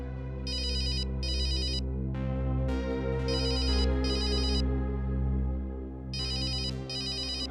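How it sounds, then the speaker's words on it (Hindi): An electronic phone ringtone plays loudly in repeated tonal bursts with a steady low hum beneath, continuing for several seconds with no talking. "तेरा फोन है।"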